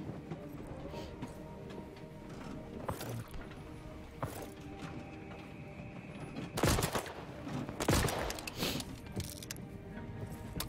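Gunfire in the Voidtrain video game, bursts of shots with two heavier blasts near the end over a busy mechanical background of clanks and rattles.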